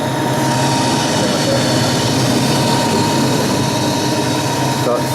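Anor Major 4200 x 450 mm lathe running at a steady loud drone with a constant mechanical hum and whir, continuous throughout with no break.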